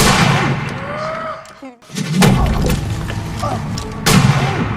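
Loud bursts of gunfire with booming impacts, several shots in quick succession, mixed with shouting voices and chaotic noise.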